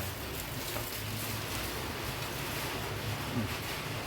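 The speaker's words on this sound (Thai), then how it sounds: "ฝนตกนะครับ" Rain falls steadily outdoors at a site with a solar inverter installation, a dense, even hiss of drops that runs throughout without talk.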